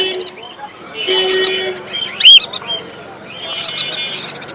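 Caged pet birds, including lutino cockatiel chicks, give sharp chirps and whistles at a busy bird market in Mirpur, Dhaka, heard close amid people talking.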